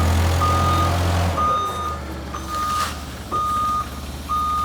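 A forklift reverses with its backup alarm sounding a steady series of evenly spaced electronic beeps over a low engine rumble.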